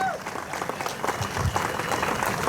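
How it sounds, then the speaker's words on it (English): Audience applause at an outdoor charity cancer run event in Hyderabad, steady moderate clapping from a crowd with some scattered voices mixed in. "the best exercise for your hands to clap for these lovely people on stage."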